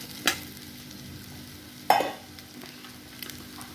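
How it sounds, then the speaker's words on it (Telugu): Egg gets stirred into a pan of prawn fry: two distinct spatula scrapes against the pan and a softer third one, over a faint, quiet sizzle, with no voices. "ఇప్పుడు వచ్చేసి గుడ్డు పోసేసుకుంటాను. గుడ్డు పోసేసిన తర్వాత బాగా కలపాలి."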